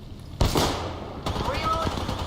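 Gunfire in the video game Apex Legends: a loud burst of shots at the start, then continued rapid firing mixed with game effects and clutter.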